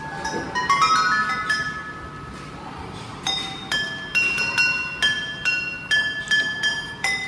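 A series of bright, ringing metallic tones struck one after another, like a small glockenspiel or chime bars, each note sustaining and decaying cleanly.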